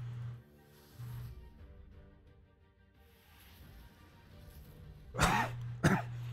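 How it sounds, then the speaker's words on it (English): Someone at a microphone gives two sharp, close coughs near the end, each a harsh throat-clearing burst after a quiet stretch. "bit of a cough."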